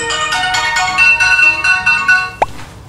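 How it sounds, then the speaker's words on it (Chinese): A phone alarm set to the same ringtone as incoming calls plays a bright, repeating electronic melody, loud and close, cut short near the end by a brief click. "这个闹钟的铃声和我的那个电话的铃声是一样的"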